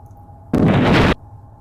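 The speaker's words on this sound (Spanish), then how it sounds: "Qué linda la explosión." A single explosion erupts in the video game Hollow Knight, a loud, dense blast lasting just over half a second that cuts off abruptly against a quiet, humming background.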